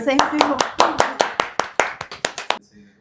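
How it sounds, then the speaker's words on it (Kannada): Hands clap at a small celebration, about a dozen sharp, evenly spaced claps that ring close and loud before stopping abruptly. "ಹೊಡಿರಿ ಚಪ್ಪಾಳೆ"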